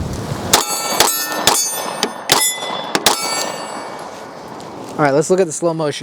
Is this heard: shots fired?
yes